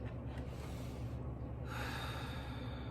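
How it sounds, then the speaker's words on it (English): A single slow, deep breath is drawn in and released close to the microphone during a quiet vocal toning and reflection session, soft and airy with no speech. "Sometimes you just have to breathe."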